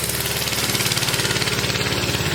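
A Motovox mini bike's small single-cylinder engine runs up close on a test drive, a loud, steady pulsing putter with a fast, even rhythm and no voices.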